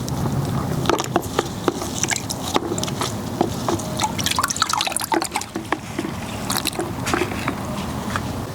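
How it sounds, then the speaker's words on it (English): Water pours into a bucket being filled to submerge a potted plant, a steady close splashing and gurgling stream with scattered drips and plops, continuous and fairly loud. "what I'm probably gonna do is just fill this bucket with water and just completely submerge this plant for a bit"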